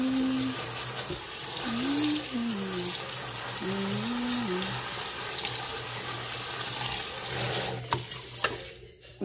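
Water runs steadily into a pot of oil and lime being prepared for tamales, a continuous splashing pour with stirring. Faint tonal sounds rise and fall under it, and the pour breaks off near the end.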